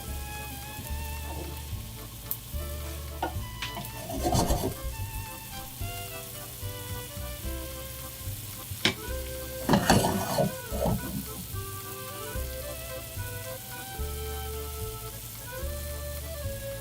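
Onions caramelizing in a pan for beef bourguignon, a steady close sizzle with occasional stirring scrapes and louder bursts of activity partway through.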